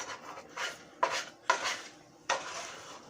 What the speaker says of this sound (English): with each passing up like that, you can hear it scraping off the bottom of the pan